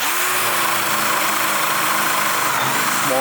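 A power drill fitted with a Star-M Japanese bit bores a hole, its motor whining loud and steady with a pitch shift near the end.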